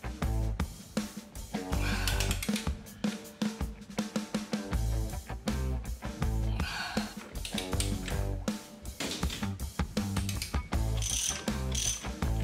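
Wrench ratcheting on a Shovelhead motorcycle transmission sprocket nut in a garage, loud rapid clicking bursts repeating with brief pauses between strokes.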